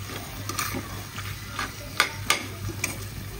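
A potato chili mixture is stirred in a pan with a utensil, giving repeated scraping strokes and sharp clinks against the metal over a faint sizzle, with no talking.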